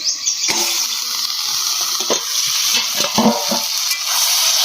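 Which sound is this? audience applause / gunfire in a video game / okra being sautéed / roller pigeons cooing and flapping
okra being sautéed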